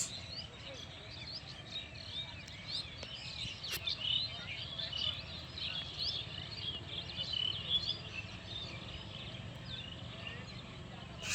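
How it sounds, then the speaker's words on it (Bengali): Birds chirp and twitter in scattered bursts over a soft outdoor background, fairly faint and distant, on a winter late afternoon in rural Bengal among rows of date palm trees. "পাখিদের কোলাহল"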